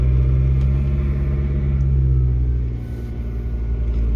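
A 2005 Ford Focus with a manual gearbox and a repaired shift tower runs steadily, its low engine rumble and hum continuous and close for the whole stretch, dipping slightly in level near the end.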